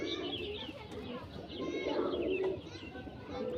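A Panjabi pigeon coos softly and continuously at close range, a low rolling murmur with faint chirps and background bird sounds.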